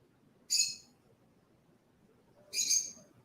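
A pet bird indoors gives two separate sharp, high calls about two seconds apart, clear and fairly close with a quiet room behind them.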